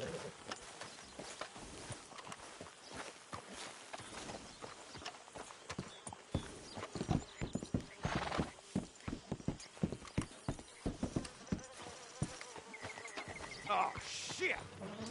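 Horse hooves clip-clop steadily on hard ground in the video game Red Dead Redemption 2, several animals at a walk, with voices talking faintly underneath and a brief whinny near the end.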